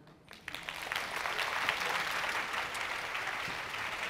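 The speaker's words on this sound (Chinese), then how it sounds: "我们要不要用掌声再请他们来帮我们唱一首歌" At a Bunun cultural association performance in Xinyi Township, Nantou, an audience starts clapping after a brief quiet moment. The applause swells quickly into steady, moderately distant clapping that carries on to the end.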